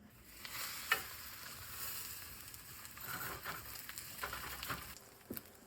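A thick cowboy steak searing on a cast iron pan, a soft, low sizzle with a few small pops and a thump at the start, fairly quiet and steady.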